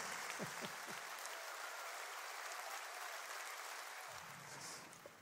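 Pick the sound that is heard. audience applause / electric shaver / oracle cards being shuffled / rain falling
audience applause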